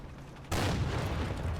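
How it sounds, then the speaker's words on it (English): Machine-gun fire in the Combat Mission war game: after half a second of quiet battlefield ambience, a loud, sustained burst of rapid gunfire erupts and rattles on without pause. "MG fire from up here."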